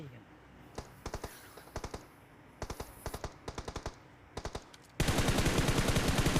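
Mobile battle-royale shooter PUBG Mobile produces short bursts of automatic rifle fire in quick clusters of three or four shots, then a long unbroken spray of rapid gunfire at the end.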